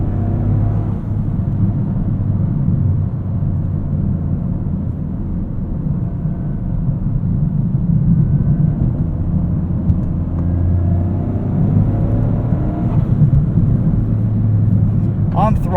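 A 2023 Toyota GR Corolla drives on a city street, a steady low engine and road rumble heard from inside the cabin, continuous and fairly loud throughout.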